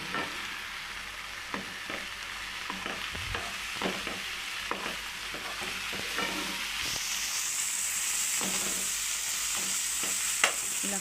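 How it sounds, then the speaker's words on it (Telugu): Boiled prawns stirred into a prawn curry in a pan, the sizzle of frying under irregular scraping stirs that grows to a brighter, steadier hiss toward the end, close up with no speech. "ఉడికించిన రొయ్యలు వేసుకోవాలి. వేసుకొని కలుపుకోవాలి."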